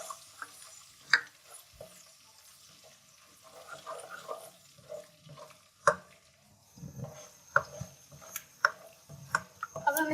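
Garlic and ginger paste frying in two spoonfuls of hot oil in a pan for chicken karahi, with a faint sizzle broken by scattered clinks and scraping stirs of a utensil against the pan.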